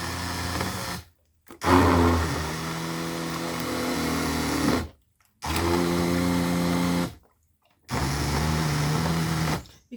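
An immersion blender wand whirs through thick recycled paper pulp soaked in rainwater, running in three steady bursts of a few seconds each, with short silent pauses between them, close and fairly loud.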